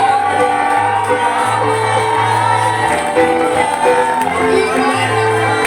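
A church congregation at a baptism ceremony cheers and acclaims a newly baptized person, a loud, continuous wash of crowd shouting and whooping with a steady low hum underneath.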